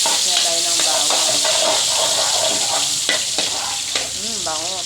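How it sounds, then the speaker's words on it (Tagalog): Garlic sautéing in a pan for ginisang ampalaya, a loud, continuous close sizzle with scraping stirs, and a voice talking briefly near the end. "magigisa tayo ng bawang"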